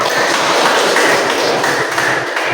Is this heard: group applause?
yes